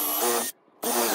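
Power drill driving a pilot-hole countersink bit into a workpiece, two short loud bursts of whirring cutting separated by a brief pause.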